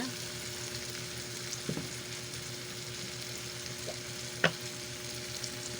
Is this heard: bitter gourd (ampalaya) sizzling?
yes